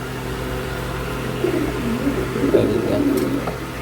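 A racing pigeon coos softly in a loft, low throaty rolling calls rising in the second half over a steady background hum, with no clear talk.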